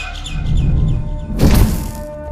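Bird chirping in the video game Garten of Banban 6: a soft run of repeated chirps over a low rumbling background, followed by a brief louder burst of sound.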